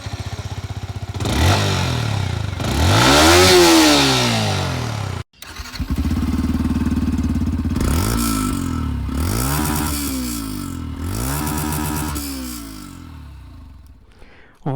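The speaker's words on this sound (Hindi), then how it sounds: "सबसे पहले चलिए यहाँ पर MT-15 की एग्जॉस्ट साउंड सुन लेते हैं।" Yamaha MT-15 V2 motorcycle exhaust, close by and loud, with repeated throttle blips and revs rising and falling around idle, a short cut in the middle before the engine note returns and revs several more times.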